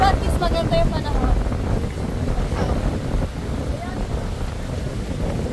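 Strong wind rushes loudly and continuously past the microphone during an open e-trike ride on a land tour of Boracay, with people talking over the steady buffeting.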